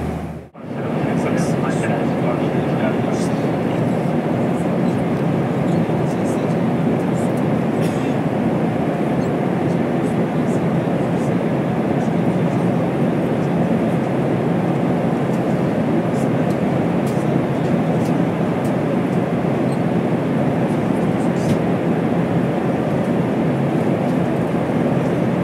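Steady broadband roar of an airplane cabin during a delayed flight approaching Natal, Brazil, continuous and loud throughout after a brief dip at the start, with faint voices in the background.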